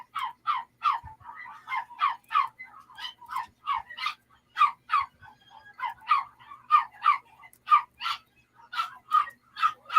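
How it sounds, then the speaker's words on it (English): Dogs bark repeatedly for ten seconds, a rapid run of sharp, fairly close yaps in uneven bursts with short gaps, and no voices. "Sorry about the dogs."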